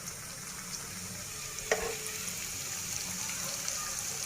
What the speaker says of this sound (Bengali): কম জালের মধ্যে আমি এইভাবে বড়াটা বেজে নেব।